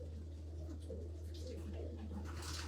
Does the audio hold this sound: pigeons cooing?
yes